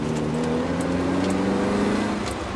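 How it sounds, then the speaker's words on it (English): Modified high-mileage Mercedes 190E with Cosworth head pulling hard in second gear, engine note climbing steadily and loud from inside the car, no talk over it. "Taking off in the Cosworth head-equipped 190E."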